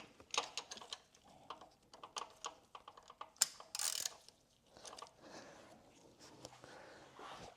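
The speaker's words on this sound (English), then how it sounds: "Use my torque wrench." A torque wrench tightens a spark plug in the engine of a BMW X7 M50i, giving quiet, irregular ratcheting clicks and metallic ticks in short bursts, close up with no talking.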